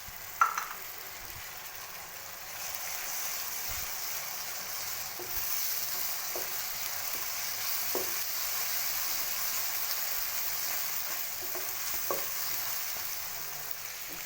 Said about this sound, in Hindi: अब मैं इसमें डालने लगी हूँ 2 से 3 चम्मच है अदरक लहसुन का पेस्ट। वो डालकर हमें अच्छे से इसकी करेंगे भुनाई।